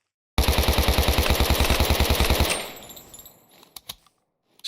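Rapid automatic gunfire from a 20-round magazine in the video game Minecraft, a steady burst of about twenty close, loud shots over two seconds, followed by fading echoes and a few scattered clicks.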